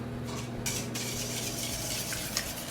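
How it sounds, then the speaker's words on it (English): Eggs being whisked with seasonings for a quiche, a steady scraping, stirring clatter of a whisk against a bowl running continuously up close, with no talking. "Give that a good whisk"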